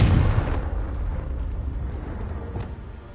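A Confringo explosion spell in the video game Hogwarts Legacy lands as a deep, booming blast that hits at once and rumbles away over the next few seconds, heard alone.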